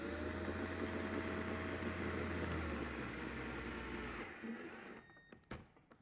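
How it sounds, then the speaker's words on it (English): A power driver screws down a mount while a Hertz/Cicada dual 10-inch saddlebag subwoofer kit is installed, giving a loud steady motor whine for about four seconds before it stops, followed by a few scattered handling clicks. "I'm going to line this up in the center of that hole and I'm going to screw it down."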